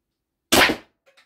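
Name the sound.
air gun shot, right barrel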